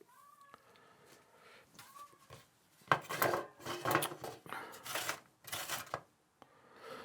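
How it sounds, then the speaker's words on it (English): Vegetables being grated for homemade country rissoles, with a run of rough, scraping strokes that start after a few quiet kitchen knocks and continue loud and close in uneven bursts. "I'm going to try grating a bit, just see how big it goes"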